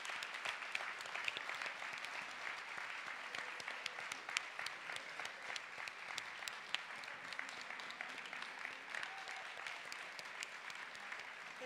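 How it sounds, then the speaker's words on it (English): A faint, fairly distant round of applause for Colgan Leadership students at a high school athletes' signing day carries on steadily, with scattered individual claps standing out from the crowd. "can you please stand for a round of applause"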